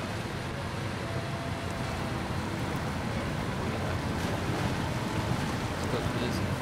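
A heavy truck pushes through deep water in the SnowRunner video game, a dense, steady wash of churning water and engine rumble that runs continuously at an even level.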